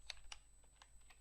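Computer keyboard keys tapped while entering Java code, several distinct clicks in an irregular rhythm, close and quiet with no talking.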